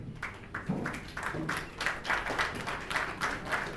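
Rhythmic audience clapping welcomes a young slam poet to the stage at a live event, quiet and distant, with beats in a steady pulse as if the crowd claps in time.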